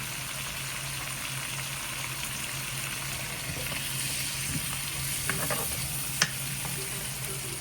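Olive oil and butter sizzle steadily in a hot pan on high heat, a soft continuous crackle with a few sharper pops and faint clinks near the end.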